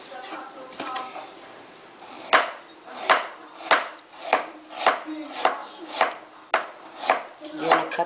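Knife chopping through fresh young ginger on a board, a steady series of about ten crisp, evenly spaced chops, close and clear, with quiet kitchen background between strikes.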